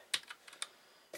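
Typing on a Cherry G84-4400 compact keyboard: a few sharp, close key clicks in an irregular burst, quiet and isolated with no talking.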